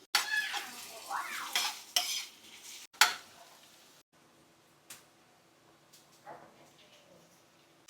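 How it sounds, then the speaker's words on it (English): Carrots, scotch bonnet pepper and garlic sautéed in a pan for Jamaican fried saltfish, with spoon scrapes and clinks against the pan over a quiet sizzle, busier at first and then tapering into sparse stirring. "And we're going to saute that."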